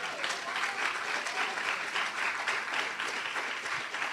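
A church congregation applauds in a dense, steady wash of clapping, fairly faint and sustained, with no talking over it.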